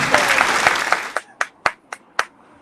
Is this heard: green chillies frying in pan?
no